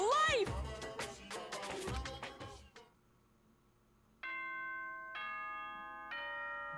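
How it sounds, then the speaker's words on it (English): Chime bell from the video game Danganronpa Trigger Happy Havoc: a short series of clear, sustained tones ringing after a brief burst of talk, loud and close. "Bell noises."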